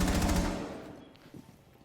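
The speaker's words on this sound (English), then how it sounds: "PJ was aware of the gunfire getting shot at him." Gunfire in a Rainbow Six Siege match, a rapid automatic burst that hits hard at first and then fades out over a second or so, with a faint later pop.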